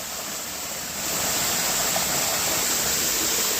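Padgha waterfall in Palghar west during the monsoon, a constant broadband rush of falling water that swells slightly after the first second and holds steady, with no talk.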